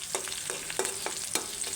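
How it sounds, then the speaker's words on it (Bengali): Onion and green chili frying in a pan, a steady sizzle with a few sharp scraping stir strokes across a short stretch. "এখানে পেঁয়াজ মরিচ দিয়ে দিচ্ছি"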